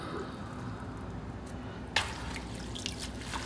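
Sea moss being rinsed in water to wash out sand gives faint drips and small wet squishes, with one brief splash partway through against a quiet background.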